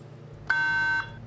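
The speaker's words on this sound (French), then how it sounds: "Main sur le buzzer, tout le monde." Quiz show buzzer at a televised school contest, one clear electronic tone held steadily for about half a second over a quiet room hum, with no voices.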